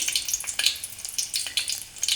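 Mustard seeds tempering in hot oil in a home kitchen pan, a soft crackling sizzle with scattered quick pops and spits, close and fairly quiet, with no talking.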